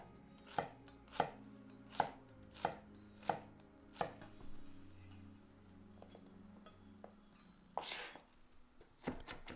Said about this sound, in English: Thinly sliced shallot.